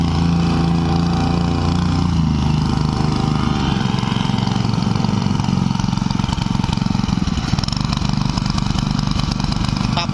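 An old Japanese Robin tamping rammer's small four-stroke engine runs steadily and loudly up close, its low throbbing note shifting and roughening partway through as the revs change, with no talking.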